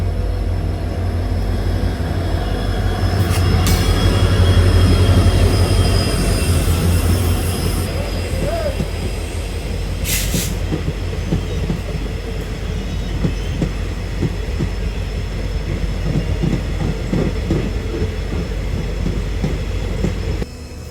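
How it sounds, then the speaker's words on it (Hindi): A passenger train hauled by a WDP4 diesel locomotive rolls past close by, loud and steady, its wheels clattering and squealing on the rails for the whole stretch with a brief higher screech partway through. "ये तो कोई पैसेंजर ट्रेन है जिसके लिए शायद हमारी ट्रेन को यहाँ बहुत देर से रोका गया था, और बिल्कुल WDP4"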